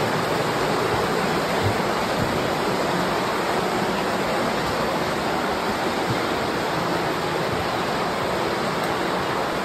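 Underground river flowing below a dry cave passage among big rocks, heard as a dense, continuous rushing roar that stays even throughout with no voices.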